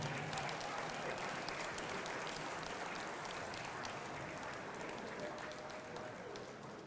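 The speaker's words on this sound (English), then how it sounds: "a nice round of applause for the 1981 football team" Crowd applause at a college hall of fame induction for the 1981 football team, quiet and distant-sounding, a steady wash of clapping that fades slightly toward the end.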